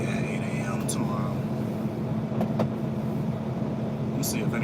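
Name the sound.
truck engine idling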